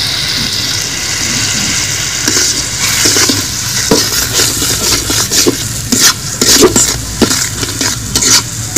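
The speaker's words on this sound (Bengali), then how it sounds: "2 মিনিট কষিয়ে নিব।" Chicken with chili powder, turmeric and salt stir-fried in a pot for biryani, a steady close sizzle with repeated scraping and clattering stirs of the spoon against the pan, no voices.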